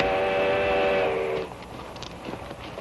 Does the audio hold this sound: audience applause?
no